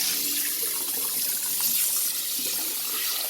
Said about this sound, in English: Now I'm going to use more water here to clean the rest of the pan out